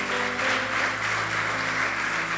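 A church congregation claps together in sustained, dense applause, steady and fairly loud, with an organ or keyboard chord held underneath.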